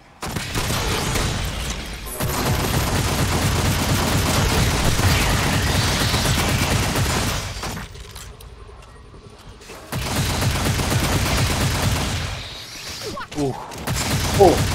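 Dense, near gunfire fills the Aliens Fireteam Elite video game in long sustained bursts, breaking off briefly midway before resuming, with a voice speaking at the end.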